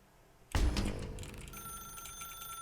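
An old-fashioned telephone bell rings loudly and abruptly in The Stanley Parable, a sharp metallic trill that starts suddenly and then fades into a sustained ringing tone, with no one talking over it.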